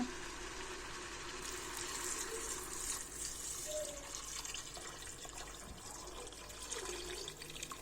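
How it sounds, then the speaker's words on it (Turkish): Cooking water poured off boiled beans into a sink, a steady splashing liquid stream running continuously at moderate closeness with faint drips and background noise. "Şöyle fasulyemizin suyunu dökelim"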